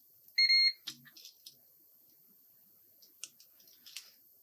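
A multimeter in continuity mode gives one short, shrill electronic beep while testing a guitar effects pedal, followed by scattered faint clicks and taps in a quiet room.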